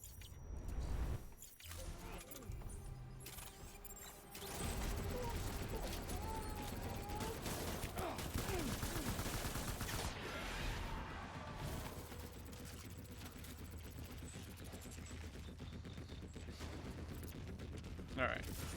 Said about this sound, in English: They shoot grenades?